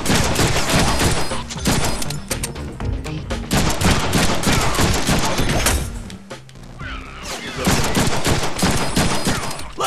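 Dense, loud gunfire from the Deadpool video game, rapid bursts and volleys nearly continuous with a brief lull midway, with scattered game voices underneath.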